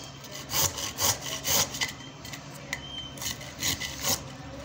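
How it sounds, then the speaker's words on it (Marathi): Fresh peeled turmeric root is rubbed back and forth on a hand grater in a series of close, rhythmic rasping strokes, about eight bursts with brief pauses between them. No one speaks. "अशा खिसणीच्या साह्यानं मस्तपैकी असा आपल्याला हळद खिसून घ्यायची आहे।"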